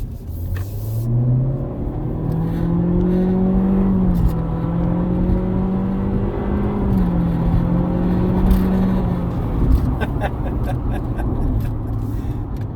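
A 2022 Honda Civic EX with a 1.5-litre turbo and CVT accelerates hard from inside the cabin, the engine drone climbing and holding a steady rising whine over a continuous road roar.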